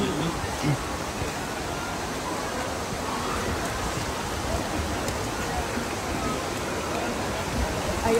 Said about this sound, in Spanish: Belleza de cascada, no sé si la miren hasta el fondo.